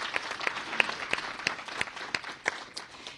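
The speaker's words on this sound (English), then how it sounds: "So if you can join me in giving Sharif a round of applause." Scattered applause from a small audience at a mayor's press briefing, a few seconds of fairly quiet, uneven clapping with individual claps standing out.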